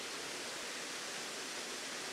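Steady broadband rush of a waterfall behind big moss-covered boulders in Dentdale in the Yorkshire Dales, a constant even hiss with no breaks, heard alone at moderate distance.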